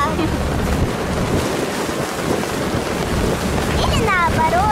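A boat sails on the open sea off Egypt, with a constant rush of wind and water and wind buffeting the microphone, steady and loud, plus a brief high squeal near the end.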